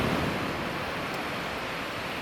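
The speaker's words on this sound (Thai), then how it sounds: "ตรงนี้คลื่นแรงนะคะ" Strong sea waves wash onto a beach, a steady close broadband roar of surf with no voices.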